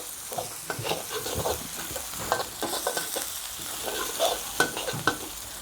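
Galangal, lemongrass, garlic, chili and coriander root stir-fry in a hot pan, with a steady sizzle and repeated scraping stirs throughout, fairly close and with no talking.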